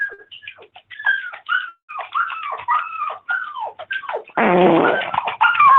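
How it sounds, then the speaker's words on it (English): A series of squeaky, sputtering fart sounds in uneven bursts, ending in a louder, raspy blast, close and prominent. "Did you just fart?"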